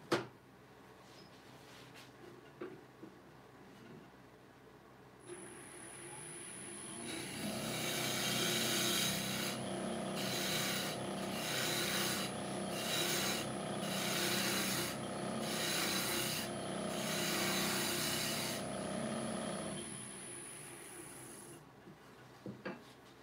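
Wood turning on a spinning lathe, a steady rasping, hissing cut with several rhythmic bursts of heavier scraping over a continuous motor whine, close and fairly loud with no talking.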